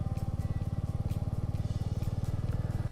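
A motorcycle rides along a tarmac hill road through the Ajodhya hills of Purulia in spring, its engine giving a steady, close, rhythmic low drone throughout with no talk.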